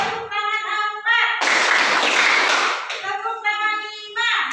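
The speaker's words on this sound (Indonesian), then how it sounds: "Tepuk tangan 1, tepuk tangan 2, tepuk tangan 3, tepuk tangan 4," A class of children clapping together in a counted round, one dense burst of unison claps lasting over a second, set between an adult's spoken instructions.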